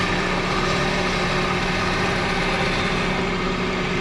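A wood lathe spins a spindle while a spindle gouge turns it, giving a constant close, loud whirring hum that stays even throughout, with no voices.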